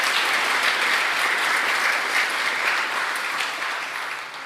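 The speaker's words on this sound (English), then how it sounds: "please give a round of applause for these students of Josie" Dense, steady applause from an audience at a Martin Luther King, Jr. scholarship award event, greeting student scholarship recipients and slowly tapering off toward the end.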